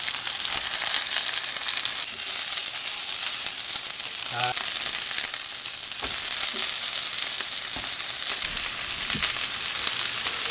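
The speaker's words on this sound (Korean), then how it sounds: "너무 맛있게 붙여지고 있습니다." Perilla leaf jeon fries in a pan over medium-low heat with egg batter, giving a constant crackling sizzle, close and even throughout, with a few soft scraping touches partway through.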